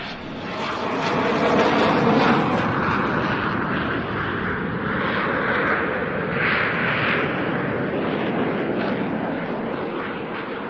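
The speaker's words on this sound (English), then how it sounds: "First, a low-speed high-alpha pass transitioning into a 360-degree turn." A jet fighter at an air show making a slow high-alpha pass into a 360-degree turn, a loud sustained engine roar that swells and rumbles without pause for over ten seconds.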